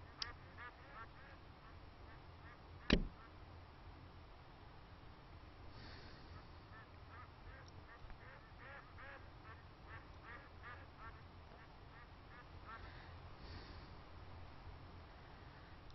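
Ducks quack faintly at a duck pond in the InWorldz virtual world, with soft repeated calls over a quiet background and one sharp clap early on.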